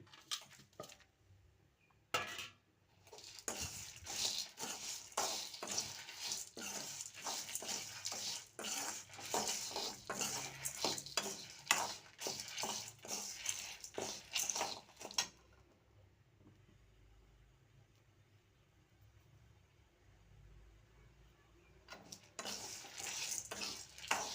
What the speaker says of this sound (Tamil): இப்போ எல்லாத்தையும் அதே எண்ணெய் சட்டியில் போட்டு நல்லா வதக்கிக்கலாம்.